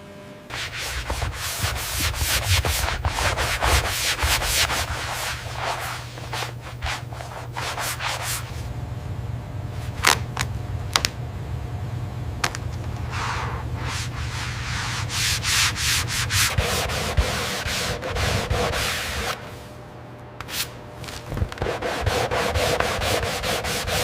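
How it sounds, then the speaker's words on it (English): Leather overcoat edges burnished with heated rods in a luxury leather workshop, a steady rubbing, sanding-like friction running continuously with repeated strokes, fairly close and moderately loud, with no voices. "Edges are burnished with heated rods to create smooth, premium, rounded contours"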